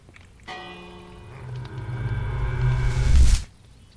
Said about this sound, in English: Can I ring this bell?